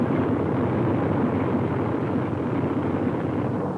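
A large fleet of World War II B-24 Liberator bombers drones overhead, a dense, continuous roar of many piston engines, loud and steady and fading slightly at the end.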